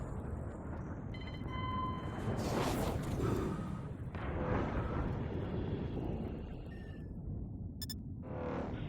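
Torpedoes launch in the space combat game Infinity: Battlescape: heavy rumbling bursts and whooshing blasts roll over a continuous low drone, with short electronic beeps and tones.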